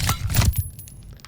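Sci-fi sniper rifle bolt-action reload built from layered stapler, box cutter and airsoft pistol recordings: a quick cluster of sharp metallic clicks and rattles up close, then a fading jingling tail.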